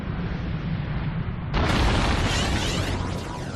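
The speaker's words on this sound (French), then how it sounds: "une explosion retentit au-dessus de la lointaine forêt sibérienne, sur les bords de la Tunguska" A huge explosion boom over remote Siberian forest, the 1908 Tunguska event: a steady rumbling roar gives way at mid-clip to a sudden, louder broadband blast that keeps thundering to the end, with no voices.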